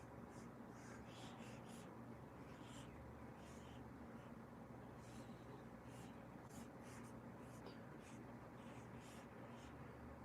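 A pencil scratches steadily across paper laid over a caricature drawing, with quick, close strokes repeating throughout at low volume.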